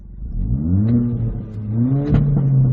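Loud revving Hyundai Veloster engine with its variable exhaust valve open, throaty, pitch climbing in two bursts, with sharp pops and crackles between revs.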